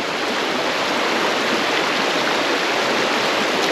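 A fast-flowing river current rushes past as a loud, steady broadband roar, constant and close, with no voices.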